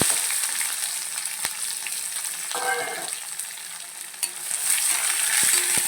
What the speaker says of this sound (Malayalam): മൂത്തിട്ടുണ്ട് സവാള ഇട്ട്